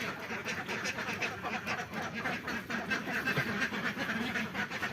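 A flock of about 120 laying ducks on a farm quacks continuously at a moderate distance, a faint, dense chorus with little else audible.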